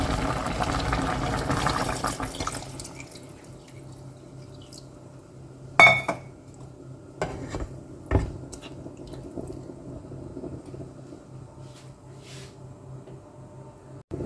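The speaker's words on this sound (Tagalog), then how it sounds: "So, pwede na natin lagyan ng tubig" Water is poured into a pot of chicken sinigang with ginger. A steady, rushing pour fills the opening seconds, followed by scattered splashes and light clinks, with no one talking.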